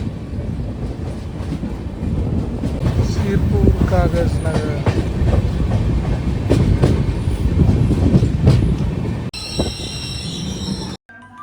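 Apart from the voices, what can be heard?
passenger train running into a railway station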